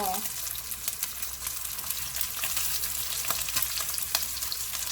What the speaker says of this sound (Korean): 잘 구워졌습니다. 이제 잘라보도록 할게요.